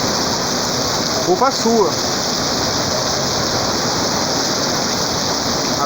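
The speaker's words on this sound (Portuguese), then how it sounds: "Olha a chuva que tá caindo." Heavy rain pours down in a loud, unbroken hiss that fills the whole stretch, with a person's brief speech near the start.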